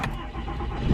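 A diesel truck engine cranks and catches in a short burst, a close, rough mechanical clatter rising in loudness at the end.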